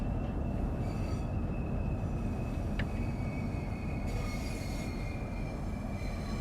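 Steady, loud rumble of a train in Train Sim World 3 braking to a stop, with a continuous metallic wheel squeal running throughout and a brief sharp click partway through.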